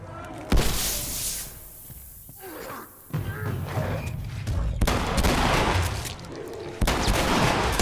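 Hunting rifle shots in The Last of Us, loud sharp bursts at several points among clattering in-game action and movement, with a couple of heavy impacts standing out.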